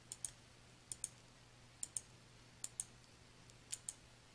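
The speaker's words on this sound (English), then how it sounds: "You can turn it back on by simply clicking the same checkbox to put" A computer mouse clicks a checkbox in Outlook 2016, giving faint, crisp clicks that come in quick pairs about five times across a quiet background with no talking.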